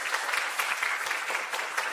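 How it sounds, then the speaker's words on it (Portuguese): Steady crowd applause at a Brazilian community panel event, dense clapping from many hands throughout without pause, fairly close and even in loudness. "Por favor, uma salva de palmas."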